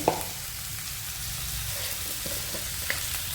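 Food frying in a pan with turmeric powder added, while preparing a healthy macaroni dish; a steady, close sizzle with light crackle runs throughout.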